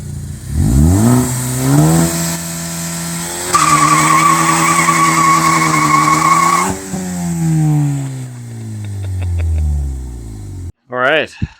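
Ford Focus ST doing a burnout, engine revving hard as the tires spin and squeal loudly in sustained skidding bursts, with a brief pause near the end before more squeal.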